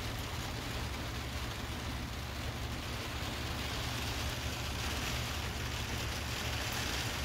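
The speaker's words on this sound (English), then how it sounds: "Looks like the rain just starting to pick up now." Steady rain pattering on a surface, a dense even hiss that grows slightly over time, with a low engine hum underneath.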